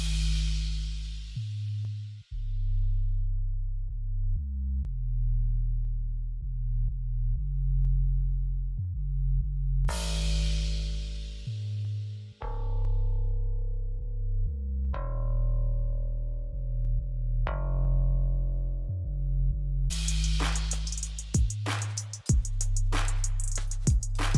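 Deep synth sub bass and a brighter layered bass line play a repeating pattern, with plucky higher tones joining in short phrases and no talking.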